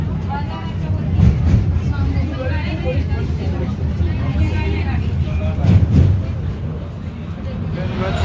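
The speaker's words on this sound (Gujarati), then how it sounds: "હા ભાઈ ટ્રેન નીચે જાય છે" A train rumbles along with a steady low roar and rattle, while people talk nearby over the constant noise.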